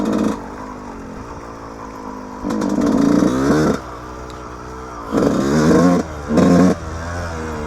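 Yamaha YZ125 two-stroke dirt bike on an off-road trail, engine revving up in several loud bursts between lower droning stretches, close and rattly.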